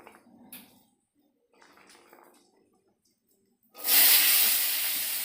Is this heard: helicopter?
no